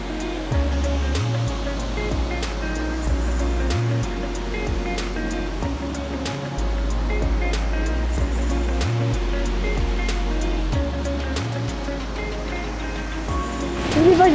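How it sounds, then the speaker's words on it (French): Ocean waves rolling and breaking along the shore in the Magdalen Islands, a steady close roar of surf with rhythmic swells, faint voices mixed in at times. "C'est une vague de fou de malade!"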